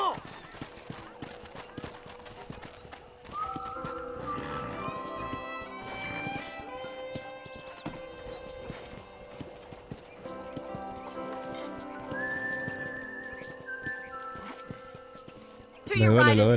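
Hooves clip-clop and a horse whinnies in Red Dead Redemption 2, with game music and a voice talking over the trotting; the sound swells loudly right at the end.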